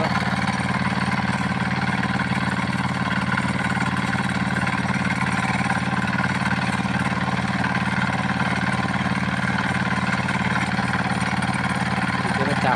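A seven horsepower agricultural engine fitted with a pulley for threshing rice runs steadily, a loud, continuous mechanical drone close by that holds an even pace throughout.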